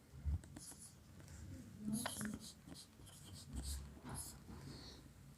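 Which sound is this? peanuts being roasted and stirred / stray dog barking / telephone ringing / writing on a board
writing on a board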